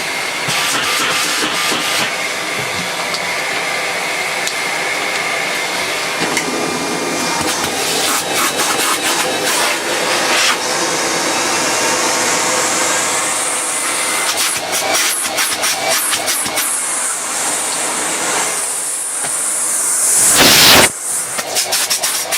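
Miele S512 vacuum cleaner running steadily with a loud whooshing motor roar and airflow hiss, then switched off so the motor whine drops in pitch as it winds down near the end.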